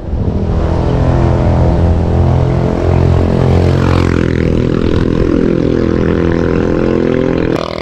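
A motorcycle engine labors up a steep stretch of the Monkayo–Boston road, a loud, steady droning roar with dense harmonics held close for the whole stretch, with no talking.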